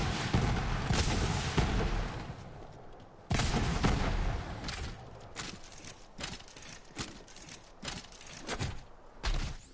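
Radiation launcher in Borderlands 3 firing shot after shot, loud broadband bursts and thumping impacts with crackling debris, two big blasts standing out amid steady rapid gunfire and rumble.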